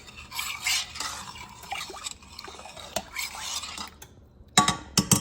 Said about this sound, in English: we're gonna give it a stir so it can be mixed in